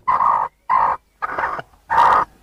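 A serama hen gives four short, loud squawking calls in quick succession, each separated by a brief silence, close to the microphone.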